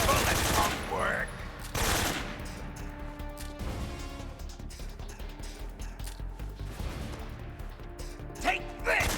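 Gunfire in a video game: rapid bursts of automatic shots run continuously and loud throughout, with a few heavier impacts and game voices over the top.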